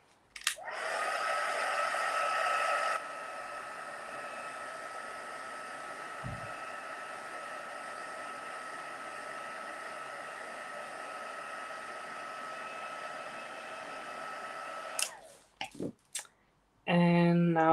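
Hair dryer blowing on painted surface of a steampunk chest craft project, a loud, steady airy whir running close and continuous for about fifteen seconds before switching off, followed by brief clicks and handling.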